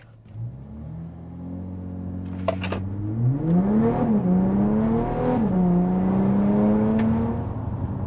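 An Audi A5 3.0 TDI tuned to 395 bhp launching hard, heard from inside the cabin: the diesel engine rises steadily through the revs with a brief shift dip, then pulls on strongly with a loud, sustained rumble.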